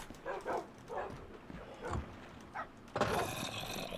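Several dogs barking in Minecraft, in a UHC survival match: short separate yaps at an uneven pace, moderately loud over a low background rumble, with a burst of broadband noise toward the end.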